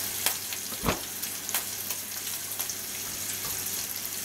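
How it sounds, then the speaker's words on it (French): Quiche ingredients being mixed roughly in a bowl give soft, irregular stirring and scraping sounds with a few sharper clicks, close and continuous with no talk. "je continue de mettre la deuxième matière et on mélange assez sommairement"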